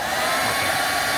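Steady close whirring blow of a handheld heater warming an iPhone 13 to loosen its display, an unbroken fan-like hum with airy hiss and no speech.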